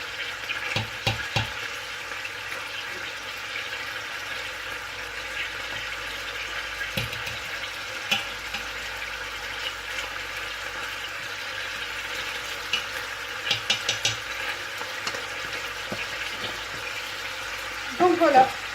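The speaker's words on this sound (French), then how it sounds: "ce que je vais faire là, c'est que je vais mélanger le tout" Ingredients for rfissa, a Moroccan dish with semolina, being stirred and mixed in a pan, with soft scraping and sizzling bursts at intervals, a busier clatter near the end, and a person talking intermittently over it.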